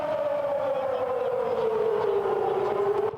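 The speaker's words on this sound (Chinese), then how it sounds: "空袭警报响起" A civil defense air-raid siren wails steadily during the Wan An air-raid drill in Taipei, one long sustained tone that slowly sinks in pitch, loud and continuous from start to finish.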